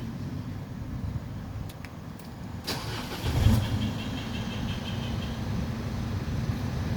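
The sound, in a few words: Isuzu All New D-Max engine push-button start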